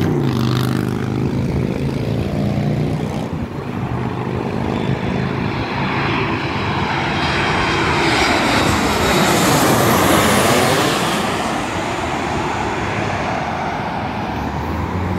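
A WestJet airliner's jet engines roar loudly overhead, swelling to a peak as it passes close by with a sweeping Doppler shift, then fading into a steady distant rumble.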